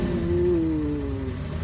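A truck passing by, heard as a steady mid-pitched engine drone with a slowly falling tone over under two seconds, fairly loud and close, with no voices.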